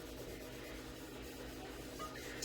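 Faint, steady rubbing as oil is worked by hand into a rust-cleaned cast iron pan before seasoning, a soft continuous scratchy swish with no talk.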